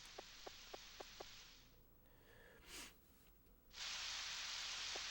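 Rain in the Nintendo 64 game Harvest Moon 64, a steady hiss that starts and stops in two stretches, broken by a few short blips and a brief swoosh in the quiet gap between them.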